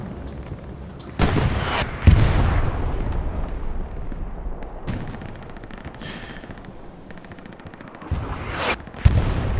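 Artillery in Hell Let Loose shelling a house near the Utah Beach map's southern defenses: heavy, loud booms land one after another over a constant low rumble of battle.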